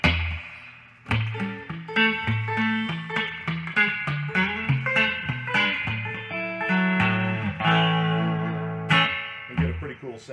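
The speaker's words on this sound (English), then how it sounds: "Anyway, that's the reverb tank." Guitar played through a vintage spring reverb tank: a lively twangy picked melody with splashy, ringing spring decay that trails off each note, loud and close, with no talking over it.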